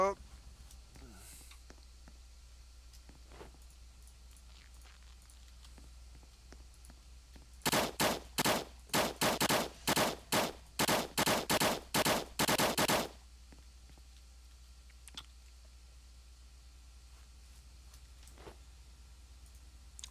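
Gunfire in the video game Apocalypse Rising, a burst of about a dozen sharp, evenly spaced shots lasting several seconds in the middle, loud against an otherwise quiet background with faint sounds before and after.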